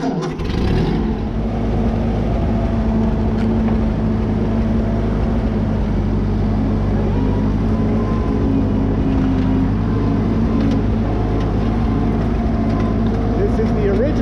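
A Ford 9N tractor engine turns over and settles into a steady, loud, close-up running rumble that holds on throughout, with a louder burst right at the start.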